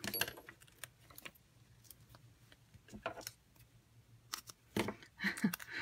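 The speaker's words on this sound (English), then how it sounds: "Just gonna snip these up." Scissors snip paper edges at a papercraft stamping table, a scattered series of short crisp cuts, some close and sharp, over a quiet background.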